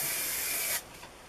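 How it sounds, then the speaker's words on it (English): Hair spray hisses from an aerosol can onto short hair in one close, steady burst of under a second that cuts off abruptly, followed by quiet. "start spraying."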